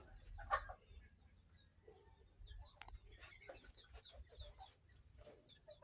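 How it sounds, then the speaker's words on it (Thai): A brooding mother hen clucks in a chicken coop, soft repeated clucks and short calls at a close distance, faint and irregular over low background rumble. "อันนี้ไก่แม่ฟัก"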